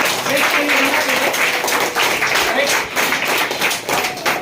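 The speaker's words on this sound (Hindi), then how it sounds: "तो एक बार जोरदार तालियां हमारे नए" An audience at a motivational business meeting claps in a dense, uneven burst, with rhythmic accents and some cheering or voices mixed in throughout.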